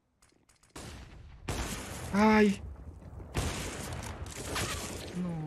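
Gunfire in Counter-Strike: Global Offensive during a professional match, a few sharp shots in quick bursts with a metallic ringing, under excited commentary with a shout.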